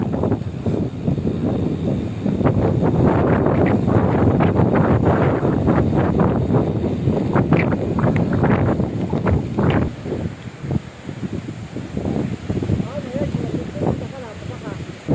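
Gusting wind buffets the microphone in heavy rumbling bursts near windmills, mixed with what sounds like talking, easing into softer, uneven gusts toward the end.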